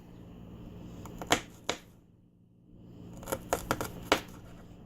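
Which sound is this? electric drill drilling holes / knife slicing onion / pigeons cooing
knife slicing onion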